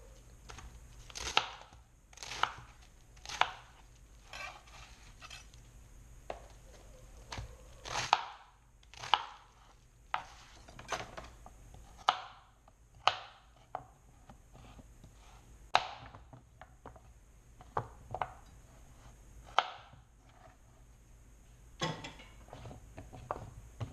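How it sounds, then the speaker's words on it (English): A knife chops food into pieces on a board during BBQ prep, giving a long run of sharp, close, fairly regular chopping strikes with brief pauses between bursts and no talking. "So cut it up into manageable sizes."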